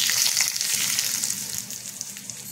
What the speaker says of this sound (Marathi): आता ह्याच्यामध्ये मी टाकणार आहे मोहरी आणि मिरची